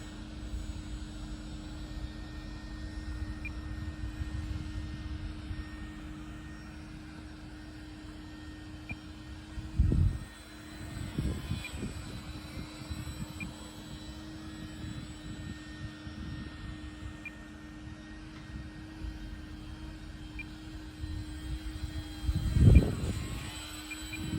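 A small Sport Cub S2 RC airplane flies over a front yard, its electric motor giving a steady thin whine that drifts nearer and farther, with a few soft thumps and gusts of wind noise along the way.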